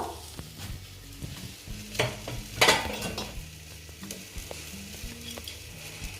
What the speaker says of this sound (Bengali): কড়াতে তেল দিয়ে দিলাম এখন আমি আলুটা ভেজে নেব কড়াতে তেল গরম হয়ে গেছে